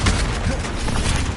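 Confringo spell blasts in the game Hogwarts Legacy: a dense, loud, rumbling burst of explosive impact noise lasting the whole moment, close and continuous.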